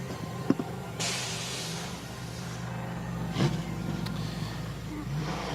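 Race cars at Spa-Francorchamps idle and creep toward the pit exit, a steady low engine drone with brief revs and a couple of sharp bursts, moderately distant.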